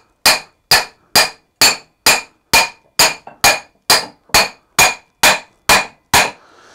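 Thirteen evenly spaced, sharp hammer blows ring out close and loud, driving the front fork of a 180cc Runner scooter into place, each strike with a bright metallic ring that decays quickly before the next.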